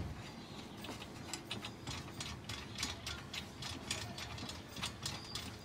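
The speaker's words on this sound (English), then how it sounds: "Each shaft uses the same 17mm spanner to tighten up" A 17mm spanner ratchets against the shaft of a briefcase tyre changer, giving a steady run of quick metallic clicks close by with no talk.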